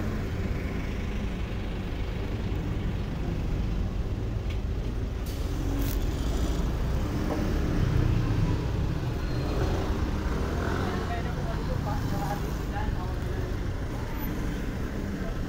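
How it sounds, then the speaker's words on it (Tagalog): Roadside traffic with cars and large trucks passing a fish vendor's spot, a continuous mid-distance rumble of engines and tires with some louder swells. "So medyo nagta-traffic pa ng kaunti."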